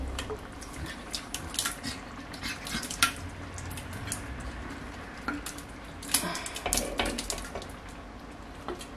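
A wooden spoon scrapes and knocks around a pot of turkey chili, with irregular soft clunks and stirring scrapes, plus faint water and kitchen background noise.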